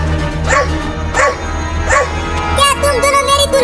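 A cartoon dog in a Hindi desi comedy cartoon barks three times in a steady rhythm, close and loud over a low musical background, then breaks into quicker yips and whimpers.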